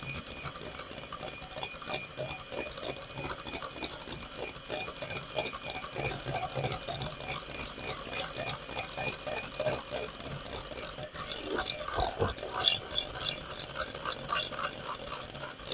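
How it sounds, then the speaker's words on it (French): An electric mixer at low speed beats butter and sugar for a vanilla pound cake, a steady whirring with rattly beater clatter throughout, while a person talks over it. "pas facile de parler en même temps que le batteur"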